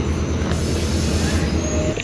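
The Konkan Kanya Express pulls out of a station at night, a steady, loud rumble of rolling wheels and carriages with faint high wheel squeal, no voices.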